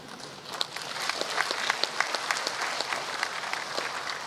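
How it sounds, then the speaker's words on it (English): Applause from an audience at a judiciary gathering, steady dense clapping at moderate distance with a few sharper claps standing out, sustained evenly throughout without talk. "Indeed, most of us deserve an applause"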